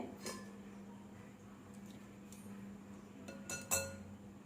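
Ice cubes and cold water go into a bowl for cooling homemade mozzarella, giving a few sharp glassy clinks and knocks over a low steady hum, with a brighter rattle of clinks near the end.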